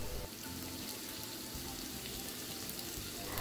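Capsicum and carrot sautéing in a pan, a steady, even sizzle like light rain, close and continuous with no talk over it.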